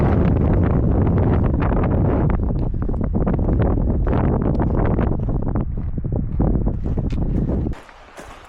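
Strong wind buffets the microphone with a loud, continuous roar and gusty rumble on an exposed mountain trail near Cucamonga Peak, dropping off abruptly near the end.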